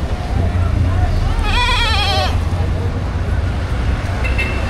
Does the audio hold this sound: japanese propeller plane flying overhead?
no